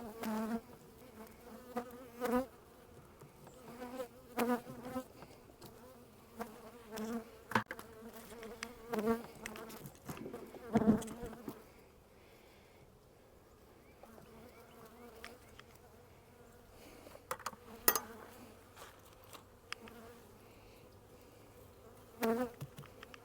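Bees buzz around hives opened for the first time of the year, a soft close drone with repeated louder buzzing passes and clicks, no talking.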